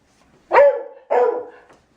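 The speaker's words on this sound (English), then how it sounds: "You can hear my dog offering me advice in the background." A household dog lets out two close, sharp barks in quick succession, each a short full-voiced bow-wow with a brief trailing tail, loud against an otherwise quiet room.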